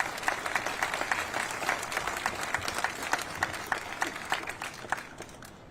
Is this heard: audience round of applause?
yes